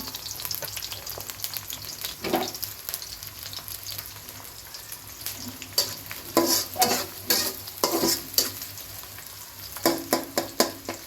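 Onion fries in a pan until browned, a steady sizzle broken by frequent scraping stirs that grow busier and louder in the second half.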